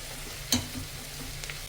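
Onions soften in hot oil for a spicy goat head gravy, giving a quiet, steady sizzle with a couple of faint stirring scrapes.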